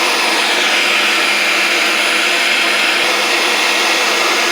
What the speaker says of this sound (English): It helps go so much easier through the grinder, just like that.